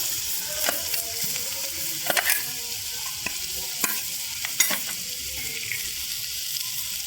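Jackfruit frying with asafoetida in a pan, a steady hiss under repeated scraping stirs of a spoon, with a few sharper clinks against the metal; close and fairly loud, no voices.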